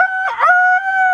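A rooster gives one short, loud, close crow, a steady tonal call held for just over a second.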